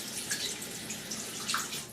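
Running water rinses shaving lather off a razor blade, a steady, soft splashing stream like a tap flowing into a sink, continuous and even throughout, with no voices.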